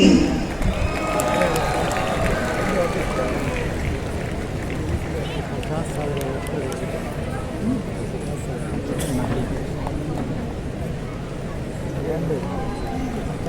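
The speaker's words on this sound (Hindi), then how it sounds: "जोरदार तालियां हो जाएं" A large audience breaks into sustained applause and cheering for the singer at a stage event, a dense wash of clapping that carries on throughout with a voice speaking over it.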